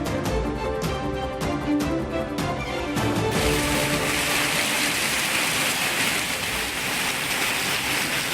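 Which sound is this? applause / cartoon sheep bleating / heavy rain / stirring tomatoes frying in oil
heavy rain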